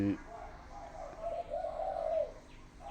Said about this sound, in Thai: มีนกแม่พันธุ์อยู่หันครับเพิ่นก็เรียก